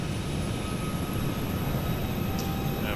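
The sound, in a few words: airplane engine in flight simulator video game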